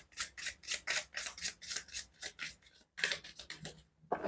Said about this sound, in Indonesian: Ini aku akan ambil lagi kartunya.